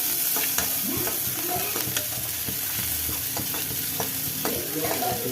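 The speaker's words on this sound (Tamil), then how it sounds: "இப்போ இது எல்லாத்தையும் நல்லா வதக்கிக்கலாம்." Onion and chilies sizzle steadily as they sauté in a hot pan with coriander leaves, for restaurant-style crispy corn, with scraping and clinking of stirring throughout.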